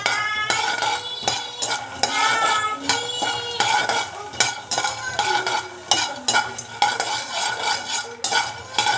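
A spoon repeatedly scrapes and clinks against a pan as ingredients for protein laddu are stirred and dry-roasted, giving a busy, rhythmic metallic scraping with faint sizzling underneath.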